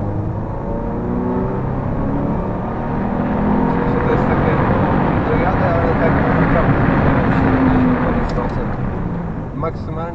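Subaru Impreza 2.0 160HP (2007) engine driving laps at the Łódź track, a steady loud drone with rising revs throughout, with someone talking over it.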